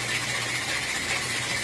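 An engine with no spark plugs installed is turned over by a SimTest machine, compression escaping through the open plug holes, giving a steady, even mechanical whirr and hum at moderate level, with no voices.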